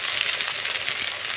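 Spices frying in hot oil as tomato goes in for a potato curry, making a continuous, close, even sizzle with no break or talk.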